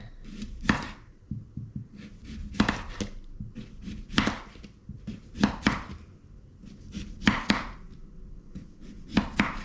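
Potatoes being cut up with a knife on a board at home, a close series of crisp chopping thuds arriving in quick bursts with short pauses between them, no talking.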